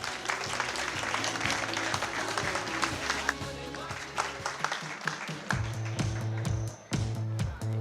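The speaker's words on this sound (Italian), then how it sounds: "Però un applauso lo possiamo fare." Audience applause at a coffee show competition in Siracusa, sustained and fairly loud throughout, with music or a rhythmic tone beneath it and some voices mixed in.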